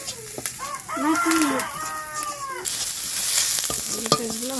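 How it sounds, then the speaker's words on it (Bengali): Onions fry in a pan with a steady, fairly soft sizzle and some stirring, while a rooster crows clearly nearby in the background. "পেঁয়াজগুলো ভালোভাবে ভাজা হয়ে গেছে।"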